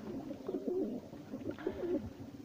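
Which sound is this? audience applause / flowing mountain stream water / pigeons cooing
pigeons cooing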